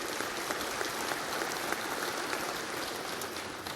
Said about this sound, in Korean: 지지하는 사람 박수 해봐요